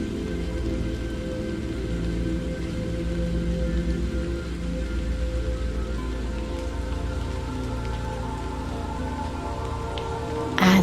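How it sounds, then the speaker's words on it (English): Steady rain falling continuously, a dense even wash of drops on surfaces, moderately loud and unbroken throughout, with no voices. "As you embrace the rain,"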